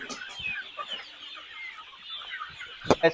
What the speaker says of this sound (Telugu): ఈరోజు అయితే మళ్ళీ ఒకసారి అయితే నాటుకోళ్ళ ఫామ్ కాడికి అయితే వచ్చినాం